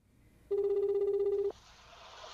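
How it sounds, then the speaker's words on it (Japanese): A telephone ringback tone sounds once as a reporter calls a number listed by an online seller: one steady buzzing ring lasting about a second, loud and clear, then it cuts off into quiet line hiss. "今回実際に出品元に掲載されていた電話番号に記者が連絡してみましたすると"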